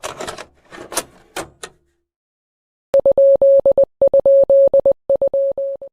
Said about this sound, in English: This Morse code plays on throughout the entire video